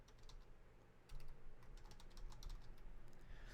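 Text is typed on a computer keyboard, a quiet run of rapid, uneven key clicks heard close up with no talking.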